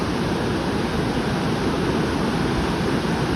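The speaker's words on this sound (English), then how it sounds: "This is Burney Falls." Burney Falls, with water pouring straight out of the rock, makes a steady, full roar of rushing water. The broad, unbroken noise stays loud and constant throughout, with no talking.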